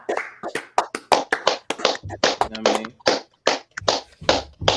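Sharp hand claps for Julius Randle, an NBA All-Star selection, tapping out in a steady, uneven run close by, with a person talking over them.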